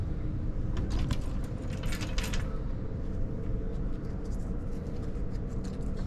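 Elevator fire service keys jangle during fire department elevator rescue training, with a brief cluster of metallic clinks early on over a steady, loud background rumble.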